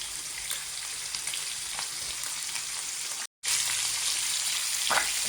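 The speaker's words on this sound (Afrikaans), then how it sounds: "Julle gaan hulle net so 'n bietjie bruin braai aan die een kant." Chicken pieces browning in a pan, a dense steady sizzle of frying with faint crackles and stirring sounds, close and continuous apart from a brief cut near the end.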